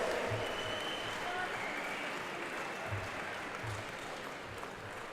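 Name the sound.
applause for the winner at opening ceremony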